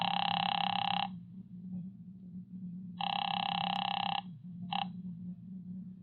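An old-style telephone bell rings in a radio drama, two long buzzing rings followed by a short partial ring, over a steady low hum.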